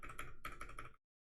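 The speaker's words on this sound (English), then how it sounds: "he's typing along" Rapid keystrokes rattle on a computer keyboard in a steady, close burst for about a second before stopping into silence.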